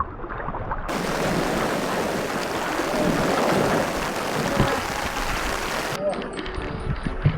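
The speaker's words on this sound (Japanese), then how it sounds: "見てこの雨。" Heavy rain pouring on a white sandy beach of a tropical Japanese island, a dense, loud, continuous roar that cuts off abruptly near the end, with a brief voice underneath.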